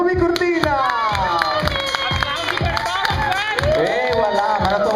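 Crowd cheering and clapping for a singer at a live show in Portogruaro, a dense, steady roar of shouts and applause that runs the whole time, with voices calling out over it.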